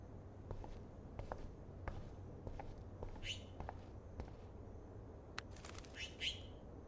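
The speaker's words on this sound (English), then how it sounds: "that poor little bird has been trapped in here" A trapped bird chirps in a video game, Life Is Strange, with several high, bright tweets and a flutter near the end, alongside soft footsteps and faint ambience, fairly quiet and with no talking.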